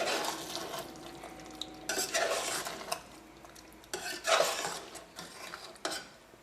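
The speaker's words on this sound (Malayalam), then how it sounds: "നമുക്കൊരു മീഡിയം ഫ്ലെയിമിൽ ഇട്ടിട്ട് വേണം ഇനി നമുക്കിത് മിക്സ് ചെയ്തെടുക്കാൻ വേണ്ടിയിട്ട്" A spoon scrapes and stirs through a thick pepper chicken curry with cashew paste cooking over a medium flame, producing repeated rubbing, clinking bursts against the pan with a soft sizzle underneath and no talk.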